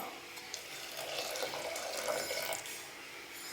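Water runs steadily with a soft splashing hiss for a few seconds as spinach cooking water is poured into a pot, with no voices and a small clink at the end.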